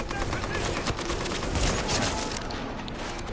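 Rapid gunfire in a video game shootout, dense overlapping shots and bursts filling the whole stretch at close, loud level with no clear gaps.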